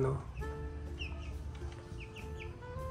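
Young 45-day-old chicks walking about a backyard coop give scattered short clucks and high peeps, several birds close by over a steady low background hum.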